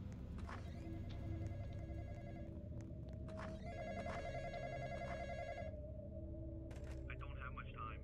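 A telephone rings in the Roblox horror game The Graveyard Experience, its electronic bell sounding in repeated bursts with short pauses, loud and close over a steady background hum.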